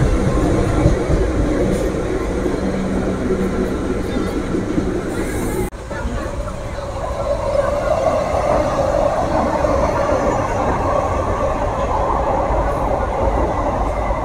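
A Kolkata–Digha special train runs alongside a metro, a steady loud rumble of wheels and carriages throughout, with a brief dip midway before the rolling noise swells again.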